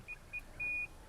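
A Nissan Patrol's power tailgate gives three short electronic beeps after a button press, two brief ones and then a longer tone, faint against a quiet background.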